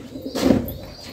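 A pet pigeon gives a single brief, throaty coo that swells and fades within about a second over quiet background.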